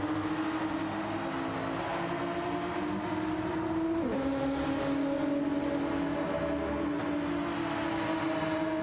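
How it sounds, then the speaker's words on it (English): A high-revving race car engine in a sim racing game drones steadily, its pitch dipping briefly and then climbing again as it keeps screaming along. "Lovely sound from Audio Muted's car in the 7"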